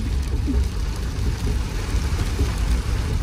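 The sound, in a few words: rain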